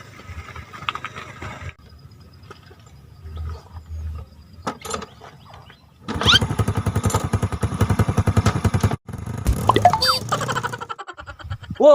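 A motorcycle engine revs in bursts with rapid, ratcheting pulses, loud and close, mixed with clattering mechanical noises and short gaps of quieter sound.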